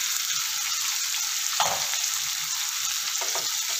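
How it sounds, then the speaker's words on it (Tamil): Chopped onions sautéing in a pan with a pinch of salt for a spicy chicken gravy, a steady close sizzle with a couple of soft scraping stirs, no voices. "இந்த வெங்காயம் ஒரு பொன்னிறமாக வரளவுக்கு நம்ம இதை நல்லா வதக்கி எடுத்துக்கலாம்"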